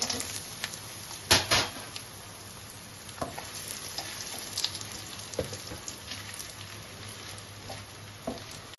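Cashews and raisins fry in hot oil in a pan with whole garam masala and bay leaves, a soft continuous sizzle with a few louder crackling bursts and light stirring clinks.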